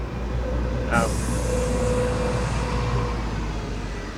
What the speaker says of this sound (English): double-decker tourist bus in Perth